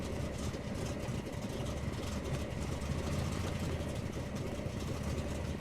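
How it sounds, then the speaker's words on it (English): A junkyard truck's V8 engine idles steadily and continuously, a dense low rumble that stays at a constant level throughout without breaks. "I can't hear it over the engine noise."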